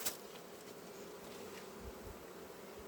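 Masses of honeybees in an opened hive while preparing colonies for the cold, a faint, continuous, even buzzing drone with no voices.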